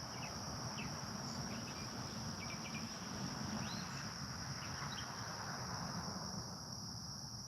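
Crickets chirp loudly and steadily at night in a family cemetery, a dense continuous insect drone with faint bird calls over low wind rumble.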